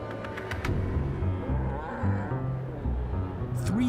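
Cattle in a herd of about 300 being moved across a ranch by cowboys and dogs, low mooing and lowing calls overlapping at moderate distance, steady and continuous under a faint background.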